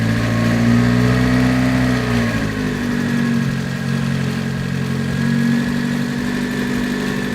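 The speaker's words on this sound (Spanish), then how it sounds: "Primero, aceleremos el carro a 1500" A car engine held at about 1500 rpm during an oxygen sensor check gives a loud, steady hum with a slight dip in pitch partway through, and no talk over it.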